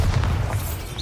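A Bombarda spell blast in the Hogwarts Legacy video game, a loud sustained low boom rumbling throughout with a dense roar on top, no voices.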